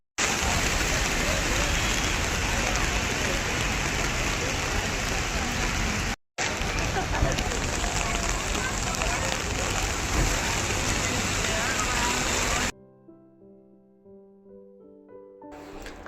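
Heavy rain pours down at Marine Drive in Mumbai, a dense loud hiss of drops on surfaces that continues for about twelve seconds, cuts out briefly midway, then gives way to quiet with faint tonal sounds.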